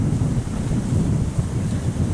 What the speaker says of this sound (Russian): Сегодня у нас сильнейший ветер